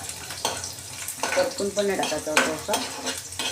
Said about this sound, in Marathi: तर बघा आपला लसूण चांगला असं म्हणजे फ्राय होतोय